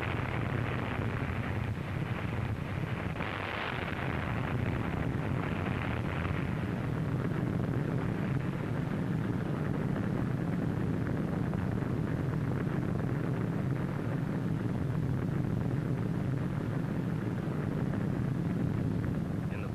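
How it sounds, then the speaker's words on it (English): Atomic bomb blast from the 1946 Operation Crossroads test, heard as a continuous, loud, roaring rumble with heavy low-end energy and a slight surge near the start, sustained without a break. "In the following view, the blast will be seen as it was photographed in slow motion."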